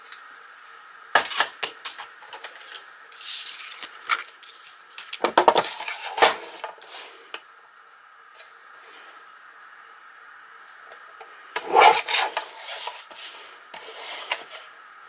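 Cardstock cut for handmade cards, with scattered bursts of scraping and rasping blade strokes separated by quiet pauses, close and crisp.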